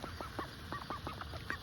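Ducks being fed grubby bird food keep up a busy run of nasal quacks and honks, close and steady over a low outdoor background hum.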